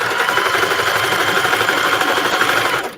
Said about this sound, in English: I'm easing it down the machine as I sew